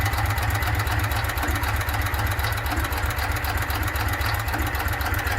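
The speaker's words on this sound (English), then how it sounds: "The JAP Type 55 stationary engine is a single-cylinder, 4-stroke, air-cooled engine built by J.A. Prestwich in the 1940s to 1950s" A JAP Type 55 single-cylinder, four-stroke, air-cooled stationary engine of 412cc from the 1940s–50s runs steadily and close by, with an even, rapid low thudding beat and a mechanical clatter throughout.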